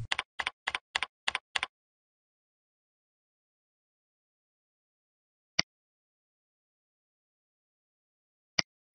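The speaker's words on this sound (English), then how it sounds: "Next, Sam enters the name for the card and saves the new card as a public experience card" Computer keyboard typing as a card name is entered, a quick burst of six crisp keystrokes, then silence broken by two isolated single clicks, close and dry.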